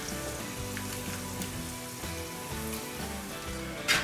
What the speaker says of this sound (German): Und dann können auch schon die nächsten ins Frittierfett.